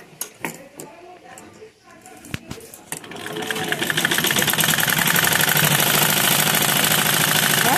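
A sewing machine stitches a petticoat: scattered clicks and taps at first, then the motor starts at about three seconds and runs in a fast, loud, steady mechanical clatter close by to the end.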